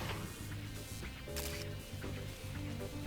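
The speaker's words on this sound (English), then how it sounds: "that little camera shutter sound, yep, that means we have a new picture in the scrapbook" A camera shutter click from the Sam and Max adventure game, a short mechanical snap sitting inside dense game music and ambience.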